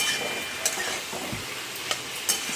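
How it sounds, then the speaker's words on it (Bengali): Malabar spinach stir-fries in a pan with a soft, steady sizzle, broken by a few sharp clinks and scrapes of a utensil turning the leaves. "পুঁই শাকটা দিয়ে ভালো করে নেড়ে চেড়ে নেবো"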